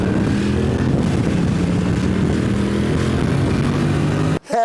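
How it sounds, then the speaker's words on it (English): A 1982 motorcycle accelerates hard, its loud, close engine roaring steadily with a rising, throbbing drone before cutting off abruptly at the very end. "How good is this old bike? 1982, and it pulls your arms like that."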